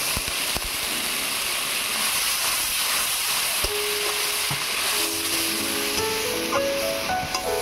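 Kashmiri chilli powder in a pan hisses and sizzles steadily as a little water is added while cooking ol chingri (elephant foot yam with prawns), a loud broad frying hiss that runs the whole time with faint clinks and no talk.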